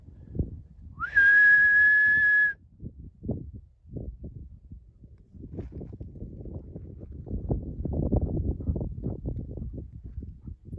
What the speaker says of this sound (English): one call of the whistle, let's see what happens